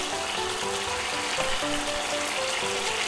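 Swordfish in teriyaki sauce sizzles and bubbles loudly in a frying pan as the sauce reduces. The dense crackle is constant and close, with faint scraping of a ladle underneath.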